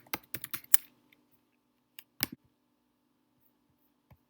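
Computer keyboard typing at close range: a quick burst of five or six clicks, a pause, then a couple more taps and a lone final keystroke in a quiet room.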